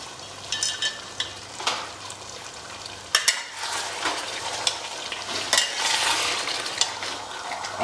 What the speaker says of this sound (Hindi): अब इसे हमें चलाना पड़ेगा।